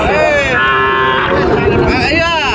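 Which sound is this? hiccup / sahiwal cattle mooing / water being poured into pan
sahiwal cattle mooing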